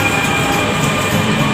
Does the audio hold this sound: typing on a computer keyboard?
no